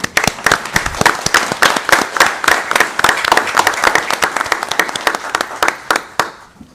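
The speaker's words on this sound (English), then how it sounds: "Now we can clap." Audience members at a city council meeting clap together, loud and close, a busy patter of hands that thins into a few scattered claps before fading out.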